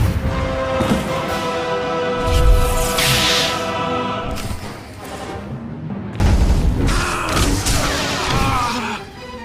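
Explosion destroying the Deathmark laser in the video game SWTOR, with deep booming blasts and crashing rumble layered over dense cutscene music, swelling in two loud bursts across the stretch.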